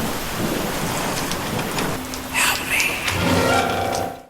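Steady rain from a movie scene hisses across the whole stretch, with a rumble of thunder swelling near the middle and a low tonal hum rising toward the end, all loud and close with no talking.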